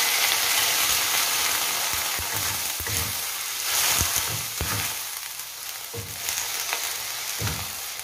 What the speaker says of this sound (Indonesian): Kemudian saya tambahkan air ya teman-teman